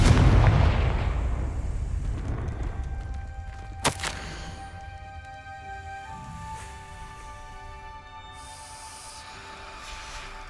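In Hogwarts Legacy, a Confringo fire spell explodes with a heavy burst at the start, followed by a sharp crack and fading rumbling as game music tones linger quietly.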